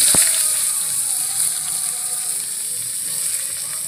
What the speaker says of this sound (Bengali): বেগুনগুলো ভেজে নেব।